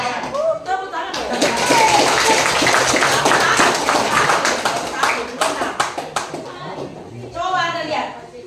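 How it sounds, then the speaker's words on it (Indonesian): An audience at a school outreach event breaks into a burst of hand clapping lasting several seconds, dense and fairly close, with children's and adult voices chattering through it and a speaker resuming near the end. "Keren tidak? Keren. Tepuk tangan dong."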